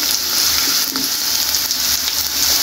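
Food frying in a pan until lightly browned, for a Bengali kalai and spinach ghonto, giving a steady, loud broadband sizzle close by with faint stirring scrapes and no voices.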